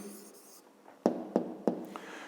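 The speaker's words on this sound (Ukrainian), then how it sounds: "Пишемо відповідь." Pen strokes sound as an answer to a 5th-grade math exercise is written by hand, with three distinct scratching taps after a soft voice at the start.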